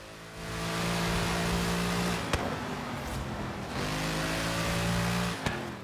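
A Mercedes-AMG GT S engine in Forza Horizon 3 pulls hard and loud through successive gears, a steady droning roar with two brief upshift dips and a short cut before climbing again, no one speaking.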